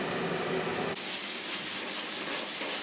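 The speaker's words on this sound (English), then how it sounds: "we're gonna use our little mobile belt sander to get rid of all the sharp corners and edges" A small handheld belt sander grinds the sharp corners and edges of metal pieces, a steady abrasive whir that shifts in tone partway through and carries on with a pulsing rasp.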